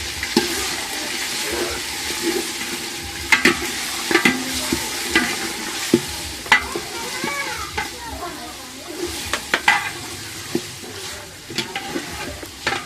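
Beef sizzles and fries in a pan while a spoon scrapes and stirs in irregular strokes, close up, with occasional sharper knocks against the pan.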